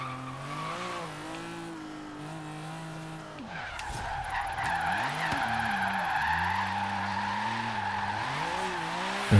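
A car drifts in Forza Horizon 3, its engine revving and dropping while the tyres squeal and skid through a slide, fairly close and without talk.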